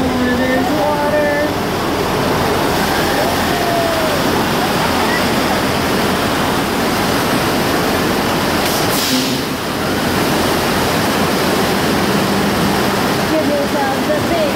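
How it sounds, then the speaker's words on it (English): Loud, steady rushing of water from the flood effect on the Universal Studios Hollywood earthquake attraction fills the whole stretch, a dense broadband roar close by, with a faint voice or two briefly audible beneath it. "There's water, there's water."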